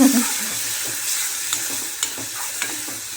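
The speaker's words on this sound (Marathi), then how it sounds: "छान परतू द्या कांदा टोमॅटो सगळं एक झालं पाहिजे ना" Onion and tomato sautéing in a pan for a chicken dish, a loud continuous hissing sizzle with a few light spatula taps near the end.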